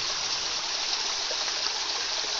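Water from a natural spring fountain near Hiawassee, Georgia runs in a steady, even rush, moderately loud and close, with no voices.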